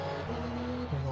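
A race car in a sim racing endurance event at Road America roars past with a steady engine drone whose pitch drops sharply as it goes by, loud and continuous.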